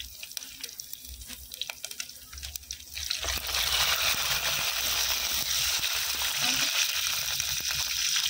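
Food sizzles in a pan over a wood-fired stove, starting as a softer crackle and jumping to a loud, steady hiss about three seconds in, with faint clinks along the way.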